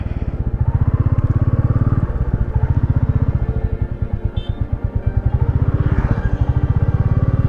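Close, loud motorcycle engine chugging with a rapid, throbbing rhythm, rising and falling slightly as the bike rides along.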